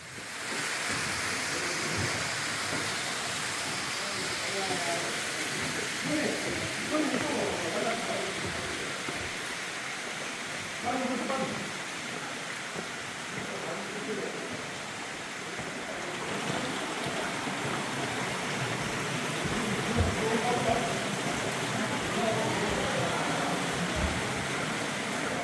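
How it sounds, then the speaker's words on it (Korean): Deungseon Falls pours down into a rocky canyon as a steady broadband rush of falling water that carries on without pause, with muffled voices faint beneath it. "다시 등선폭포로 왔습니다"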